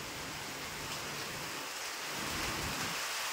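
Steady, loud rain pours down in a dense hiss, with a low rumble of thunder rolling underneath and a slight swell toward the end; no one speaks.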